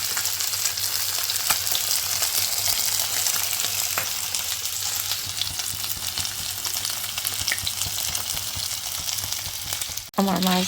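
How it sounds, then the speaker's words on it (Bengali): Small puti fish fry in oil with a close, steady, bubbling sizzle that lasts the whole time. A sharp knock and clatter come right near the end. "মাছগুলি আমার ভাজা হয়ে গেছে।"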